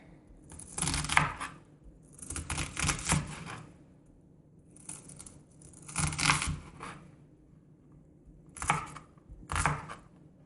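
A knife cuts around a produce stem in repeated crisp, scraping strokes, loud and close, arriving in short bursts with brief pauses between them and no talking.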